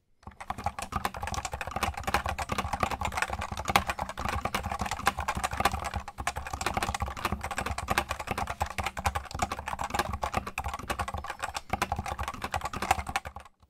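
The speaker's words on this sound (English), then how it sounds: "The typing experience itself is really solid. Here's a good example for you." Steady typing on a Cooler Master Novatouch TKL keyboard with Topre switches goes on for about thirteen seconds, a close, dense patter of muted, rounded keystrokes with no voices.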